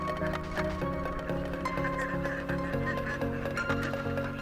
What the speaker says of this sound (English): there are many ducks waiting for some food from the children